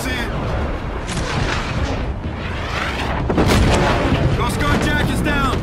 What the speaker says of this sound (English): Watch for flak!